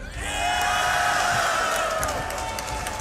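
An esports crowd at a Counter-Strike tournament in Melbourne roars and cheers loudly, a sustained wash of voices and whoops that swells and holds for a few seconds.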